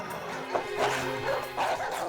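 A pair of sick dogs keep up a steady run of barks, yips and whines, moderately loud and somewhat reverberant, with a faint tonal hum underneath.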